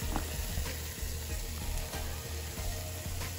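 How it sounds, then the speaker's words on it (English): Celery and onions sizzle steadily in a hot frying pan, with soft stirring and scraping at an even pace, close by. "I like to saute all of the vegetables and the chicken in a frying pan first"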